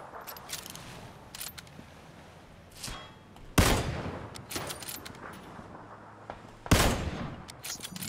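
Gunfire in PlayerUnknown's Battlegrounds: scattered single shots and short bursts, with two loud close reports standing out among quieter, more distant cracks and clicks, without talk.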